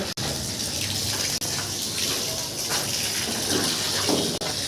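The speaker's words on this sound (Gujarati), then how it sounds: "ચાલો હવે આપણે આ માલની અંદર પાણી મૂકી દઈએ" Water gushes steadily into a construction mortar mix on a masonry building site, a continuous close pouring flow with no talking.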